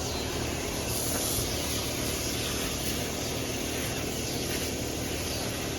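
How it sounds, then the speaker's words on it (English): Coil cleaner sprayed through a fan spray attachment into the condenser coil of a Trane heat pump, a steady, close hissing rush that continues without pause and without voices. "we're actually using the fan spray attachment with this because we want to really shoot it into that coil"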